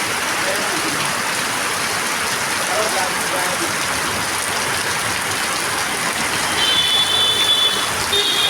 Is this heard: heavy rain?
yes